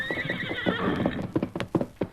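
A horse gives a loud, wavering whinny up close, followed by a run of clopping hoofbeats that carry on to the end.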